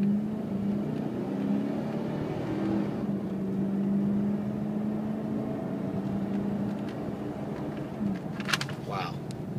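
A 2003 Hummer H2 with 11k miles pulls away from a standstill, its engine drone rising and falling through gear shifts, steady and close; a person talks over it.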